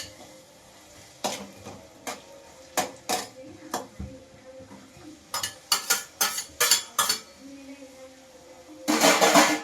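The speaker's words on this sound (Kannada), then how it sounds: "ಇವಾಗ ಎಣ್ಣೆ ಕಾದಿರೋದ್ರಿಂದ ನಾನು ಈರುಳ್ಳಿ ಮತ್ತು ಕ್ಯಾಪ್ಸಿಕಮ್ ಎರಡನ್ನೂ ಜೊತೆಲೇ ಹಾಕೊಂಡು ಫ್ರೈ ಮಾಡ್ಕೊತಾ ಇದ್ದೀನಿ" Onion and capsicum fried together in hot oil on a low-flame stove, heard as repeated scraping and clanking of a spatula against the pan over a faint sizzle, with bursts of stirring and light talk.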